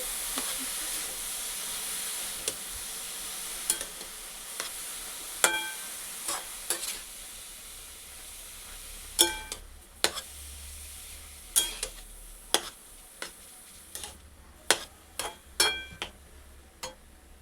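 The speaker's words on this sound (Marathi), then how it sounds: "तुपात केस चांगला भाजून घ्यायचा" Grated carrot roasts in ghee for halwa: a soft, low hiss under a run of sharp metallic clinks from stirring that grow more frequent toward the end.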